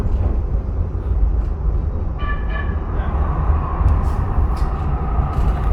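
A Calgary Transit Siemens Duewag U2 light rail train arriving at a station rumbles steadily nearby with a brief two-tone horn or chime, continuous low rolling noise throughout.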